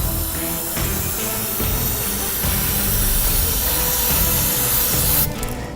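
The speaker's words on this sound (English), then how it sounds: "So I just grab the brake cleaner and just spray it off." Steady, loud hiss of an aerosol brake cleaner spraying continuously for several seconds onto a KTM motorcycle's magnet during an oil change, ending with a brief shift near the end.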